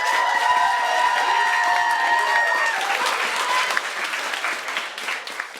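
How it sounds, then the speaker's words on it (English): Youth leadership conference audience claps for a founder, a full round of applause with some cheering and tonal voices early, gradually thinning and fading over several seconds. "just give a round of applause for one of our founders"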